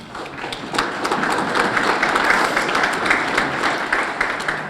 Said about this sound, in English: A huge round of applause for our Master of Ceremonies, Mark Santos